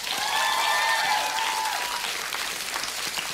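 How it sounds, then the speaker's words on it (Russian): Applause from a theatre audience at a comedy duo's stage show, a dense wash of clapping that swells early and then thins and fades, with faint voices or a whistle-like tone above it. "Ваши аплодисменты."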